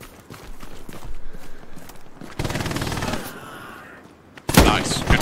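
Machine gun fire in the World War II shooter Hell Let Loose, set on Omaha Beach, comes in sustained bursts with shorter rattling volleys and single shots, loud and close, amid battlefield noise.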